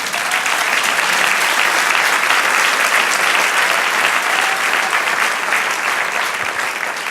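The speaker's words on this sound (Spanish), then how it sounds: "Den un aplauso al Señor." A church congregation claps in a steady, dense, loud burst that fills the room without letup, with a few faint voices mixed into the sustained applause.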